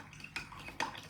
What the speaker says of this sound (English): take a few tablespoons of baking soda or this much and stir it